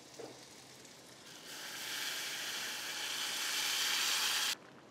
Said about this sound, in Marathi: ही छान परतून झालेली डाळ आपण यामध्ये आता पाणी घालू